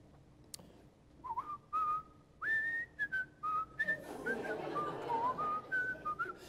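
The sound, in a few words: person whistling a hymn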